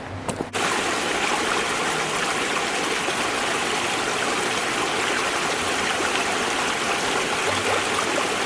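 Steady, loud rush of flowing river water in Bealey Valley, Arthur's Pass National Park, a continuous broadband roar that fills the whole stretch without pause.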